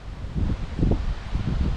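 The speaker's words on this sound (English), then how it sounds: "Man, is that wind ever gonna quit blowing?" Gusty wind roars and buffets steadily on a cattle farm, a low rumbling rush with no voices.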